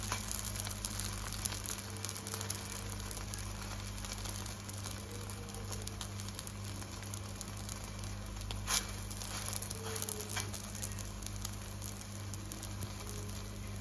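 Rghaif flatbread frying in a pan with butter, a steady soft sizzle and crackle under a constant low hum, with occasional brief pops and crinkles.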